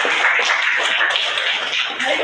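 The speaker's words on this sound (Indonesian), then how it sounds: "Tepuk tangan tuh Haji." A classroom group claps together for a student speaker, steady dense applause holding at an even level from start to finish.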